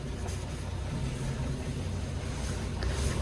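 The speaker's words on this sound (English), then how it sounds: "What beautiful sound. Straight 6 GM engines." The straight-six GM engines of a WW2 halftrack run close by with a steady, rumbling drone and a faint mechanical clatter. No one speaks.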